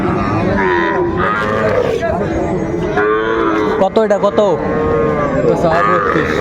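A bull calf moos loudly over a noisy cattle market crowd, with long lowing calls rising and falling while people talk in the background.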